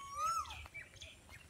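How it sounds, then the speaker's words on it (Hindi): An Asian koel calls near a small pond among trees, a couple of clear rising and falling whistled notes over a faint low background hum. "कोयल की आवाज़ है"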